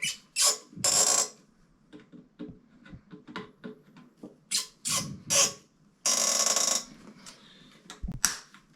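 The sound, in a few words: tightening toilet mounting bolts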